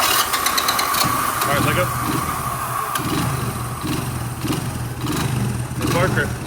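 A Honda three-wheeler engine running steadily at idle, a continuous close motor hum throughout with brief rises, while people talk over it.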